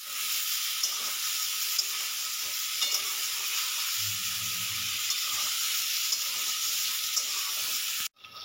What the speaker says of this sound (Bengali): এই দেখুন, বেগুনগুলো আমার ভাজা হয়ে গেছে।